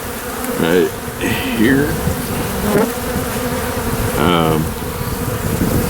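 Angry bees buzz continuously during a bee removal in Godley, Texas, a close, dense, droning swarm with individual insects whining past. A voice speaks briefly.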